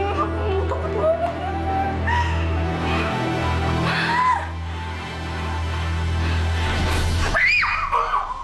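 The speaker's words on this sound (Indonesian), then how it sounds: "Aduh, saya nggak maksud teriak-teriak kayak tadi." A woman screams in fear, a sustained, loud, wavering cry that runs through most of the clip and ends in a sharp burst near the end, set in a city park at night.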